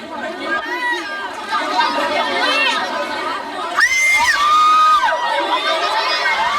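A dense crowd of fans clamoring around a celebrity in Korea, steady loud chatter with high excited shrieks and squeals rising sharply near the end, voices overlapping throughout.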